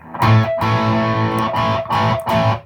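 An electric guitar played through a fuzz pedal prototype and distorted amp plays heavily distorted, fuzzy chords in loud bursts with brief gaps between strums.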